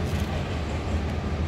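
Low, steady rumble and rhythmic clatter of a cargo train rolling past at a moderate distance, with no voices.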